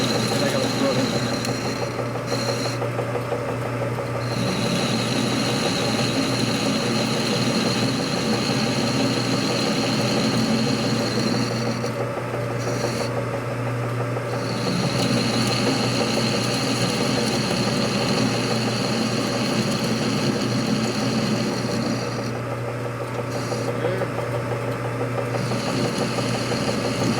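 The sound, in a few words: lathe cutting bolt shank down to 5/16 diameter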